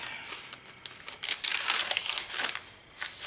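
A paper bag crinkles and rustles as it is handled up close, in bursts of crisp crumpling that swell and fade, with a louder stretch in the middle and no talking.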